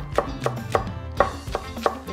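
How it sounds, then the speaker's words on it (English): A knife minces scallions on a cutting board in a home kitchen, giving about seven close, distinct chops at a steady, unhurried pace. "we're gonna mince up our scallion"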